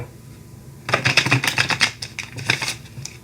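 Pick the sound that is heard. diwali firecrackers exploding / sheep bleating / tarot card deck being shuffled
tarot card deck being shuffled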